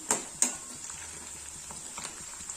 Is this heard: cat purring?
no